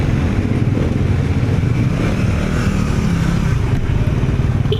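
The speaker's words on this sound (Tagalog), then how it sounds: "Ang ganda ng motor na tulin." A motorcycle on the road gives a loud, steady engine roar with a broad rushing wind noise. It holds at a constant level for the whole stretch, with no voices.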